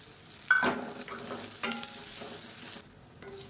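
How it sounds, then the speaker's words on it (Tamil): Grated coconut and a small piece of tamarind are stirred and sautéed in a pan, with a soft sizzle under intermittent scraping and clinking of a spatula, close and moderately loud, briefly dipping near the end. "இங்கே பாருங்கள் தேங்காய் சேர்த்து நல்லா வதக்கியாச்சு"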